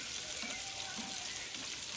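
Shrimp cooking in a pan for a salmon dinner, a steady even sizzle and crackle of frying, close and moderately quiet with no talking.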